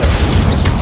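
A fire spell from Hogwarts Legacy bursts in a short, loud, dense boom of roaring flame with a rumbling low end, heard alone without any talk.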